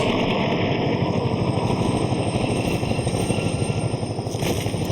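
American military helicopters in the war game Combat Mission Shock Force, attacking an airfield, thump with fast, rhythmic rotor chop under a loud, steady engine drone, close and continuous, without speech.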